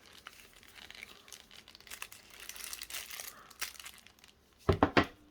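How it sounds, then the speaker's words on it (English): Plastic bag of resin dye being twisted and snipped for a flower-bloom resin craft: soft continuous crinkling through most of the clip, then three sharp, louder crunchy snips near the end, close and with no talk. "Give it a good twist, not too tight because you don't want the bag to split."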